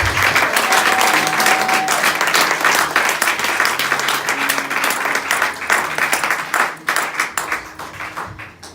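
An audience at a 2018 women's church convention claps steadily, producing loud, dense applause that holds throughout and thins slightly toward the end.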